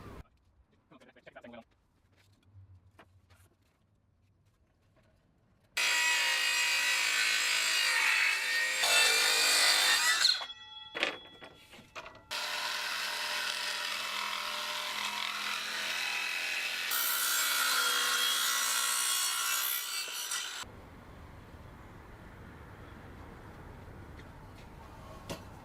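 Power saw ripping a wooden fascia board for a flat roof, loud sustained cutting in two long passes with a short gap, with brief workshop noises before and after.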